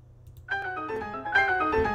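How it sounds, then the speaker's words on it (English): An unlock sound effect chime rings out, a bright harmonic tone entering after a brief quiet, then a second brighter chime layered on top, clear and close with no voices. "That is the sound of this sentence being unlocked"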